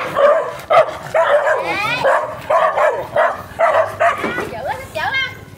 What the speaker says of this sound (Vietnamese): Bốn con chó này dữ ghê luôn á.